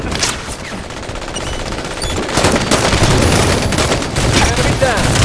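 Dense, loud automatic gunfire in a Halo 5 multiplayer match on the Truth map, rapid bursts overlapping continuously with booming impacts, with voices calling out amid the shooting.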